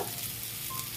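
Chopped onions frying in oil in a pan, a brief, close, continuous sizzle with a faint stirring scrape underneath.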